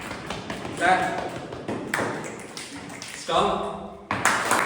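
A live meeting audience snaps their fingers on cue in short scattered bursts of crisp taps, several people at once, between stretches of a presenter's voice.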